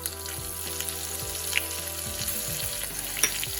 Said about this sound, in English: To this, I'm going to add 3 green chillies, 2 cloves of garlic finely minced,